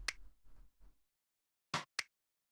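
A snap percussion sample from a minimal house track, two crisp dry hits in quick succession near the end, heard alone after a few softer percussive ticks.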